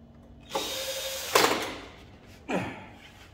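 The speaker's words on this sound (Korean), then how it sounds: "그러면 나사를 박아보겠습니다" A power screwdriver drives screws into a Fuji Xerox Docucentre IV C2265 copier, three short whirring bursts, each rising then fading, close by and separated by brief pauses.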